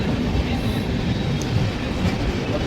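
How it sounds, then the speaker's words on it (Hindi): The Rajdhani Express rolls into Samastipur Junction railway station, a loud continuous rumble of train wheels and carriages with faint clickety-clack and no voices. "ट्रेन 10 मिनट डिले से समस्तीपुर जंक्शन रेलवे स्टेशन पहुँच रही है"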